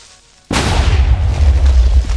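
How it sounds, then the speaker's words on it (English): A creeper explodes in the Minecraft RTS mod Reign of the Nether, a sudden loud boom after near silence that keeps rumbling heavily for well over a second. "So now this explosion should be quite large."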